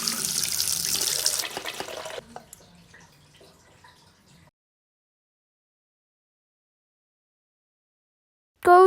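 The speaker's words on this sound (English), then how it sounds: "Flush the toilet." A household toilet flushing in a bathroom during potty training, a loud rushing gush of water for about two seconds that quickly fades into a trickling refill, then silence until a brief sharp sound at the very end.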